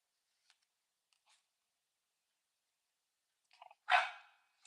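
A dog gives one loud, close bark near the end after a long quiet stretch, with a few faint clicks and small sounds before it.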